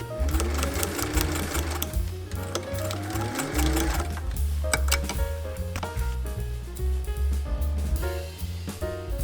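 A sewing machine stitches ribbon onto a newsboy cap, its needle ticking in a fast, steady mechanical rhythm close by, with brief changes in pace and some light clinking over a low motor hum.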